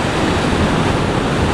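Sea waves break on the shore at a Konkan fishing spot, a loud close wash of surf and foam that fills the whole short clip with no voices.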